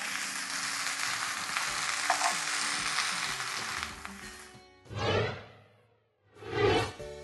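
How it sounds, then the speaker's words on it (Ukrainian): Steady, loud sizzling of shrimp frying in a grill pan for about four seconds, then two short sweeping whooshes after it stops. "кладемо у сковорідку тільки для того, щоб скаринка полопалася"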